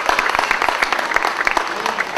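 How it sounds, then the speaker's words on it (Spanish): Wedding guests applauding at a reception, a dense, close round of clapping with crisp individual hand claps and a faint murmur of voices underneath. "Pido un aplauso para ellos."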